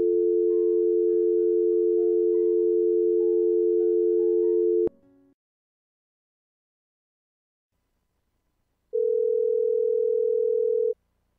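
A steady telephone dial tone hums loudly and evenly for several seconds, cuts off with a click, then after a pause of silence a second pure tone sounds alone for about two seconds.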